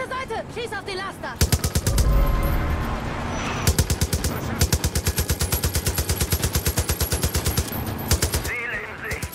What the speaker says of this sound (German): Schieß auf die Laster!